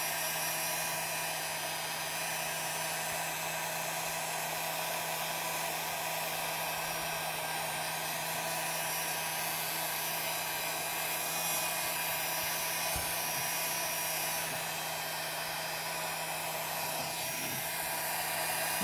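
A heat gun warming thin craft foam for cosplay detailing gives a steady, loud blowing roar with a constant hum, running unbroken and alone throughout.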